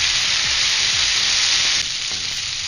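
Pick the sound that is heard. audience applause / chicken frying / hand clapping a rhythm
chicken frying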